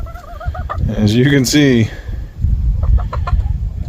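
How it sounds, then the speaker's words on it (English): A large meat-breed chicken, kept past its maturity date, clucks and gives a drawn-out wavering squawk close by on a small farm, with a person talking briefly and faint farmyard calls behind. "that one big herky chicken there is a meat bird from last year"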